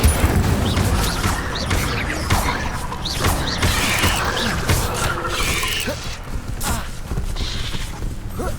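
Crackling bursts, booms and shattering impacts of the Incendio fire spell in the video game Hogwarts Legacy, dense and continuous over several seconds with a sustained roaring rumble underneath, loud and close with no talking.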